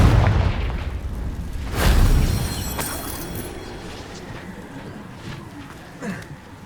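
Confringo spell blast in Hogwarts Legacy striking rocks, a loud booming impact followed by a second heavy burst and crumbling debris that fades out, with a smaller knock near the end.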